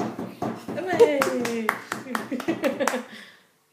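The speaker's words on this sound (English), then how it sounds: "Clap hands." Hand clapping at home, a series of sharp, close claps in an irregular rhythm mixed in with a voice talking and singing over them, fading out near the end.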